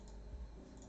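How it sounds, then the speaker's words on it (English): Clacky keystrokes on a Novelkeys NK65 mechanical keyboard, a quick close run of typing with a steady low hum beneath. "damn, Mac, that board you're typing on sounds amazing."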